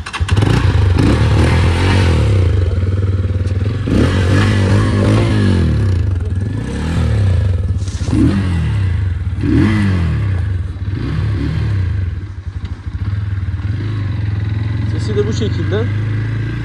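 An Arora ARS 200 motorcycle engine revs repeatedly in loud rising and falling bursts over a steady idle, close by, with people talking over it.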